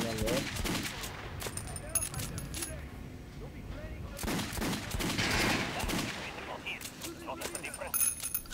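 Gunfire from the video game Metro Last Light aimed at an armored target, a run of sharp shots and bursts with metallic pings, with voices talking over parts of it.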